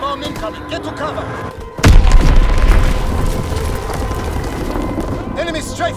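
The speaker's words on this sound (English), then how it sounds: "Enemy bomb incoming. Get to cover." An enemy bomb bursts in the Call of Duty WWII video game: one sudden heavy boom, with a deep rumble that fades over several seconds. Game voice chatter is heard before it.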